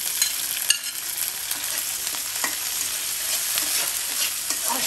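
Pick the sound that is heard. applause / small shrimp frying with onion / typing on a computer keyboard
small shrimp frying with onion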